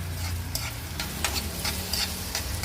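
Onions and native shrimp fry in a pan while being stirred, a steady sizzle under repeated scraping strokes of the utensil, close and continuous.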